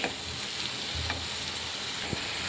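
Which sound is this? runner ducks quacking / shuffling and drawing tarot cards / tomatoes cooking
tomatoes cooking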